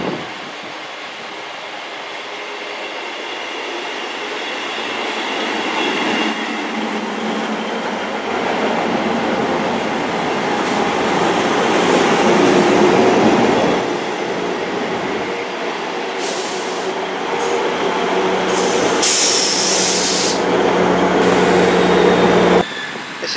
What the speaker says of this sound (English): This is the departure of the Class 158 First Great Western service from Cardiff Central to Taunton.